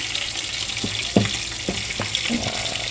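Kimchi stew simmering in a pot, a steady bubbling sizzle punctuated by several soft pops from rising bubbles, close and moderately loud.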